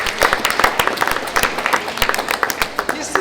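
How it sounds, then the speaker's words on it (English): An audience at an International Women's Day 2020 event breaks into brief applause, with sharp claps rising and falling over a few seconds amid crowd noise and some voice. "Let's give a round of applause for those women"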